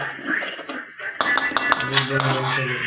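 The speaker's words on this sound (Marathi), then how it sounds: "भांडे घासणं चालू आहे." Dishes being scrubbed by hand in a home kitchen, with metal pots and plates clinking and scraping close by beneath a voice speaking throughout.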